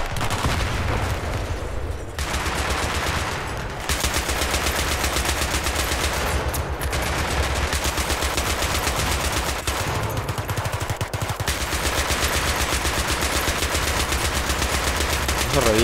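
A mounted turret machine gun firing in the video game Battlefield 3, loud continuous rapid automatic fire with brief pauses between long bursts, close and dominant.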